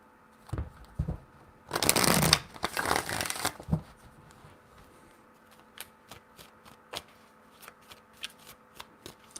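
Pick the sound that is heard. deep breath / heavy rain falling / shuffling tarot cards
shuffling tarot cards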